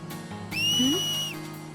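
A single clear, bright whistle from the Final Fantasy X video game, one sustained tone lasting under a second that rises slightly and then fades, heard alone over a low game background hum.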